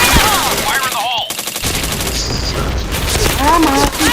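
Rapid bursts of video game gunfire in a first-person shooter, loud and dense, crackling almost continuously with a brief lull midway and a voice talking over it.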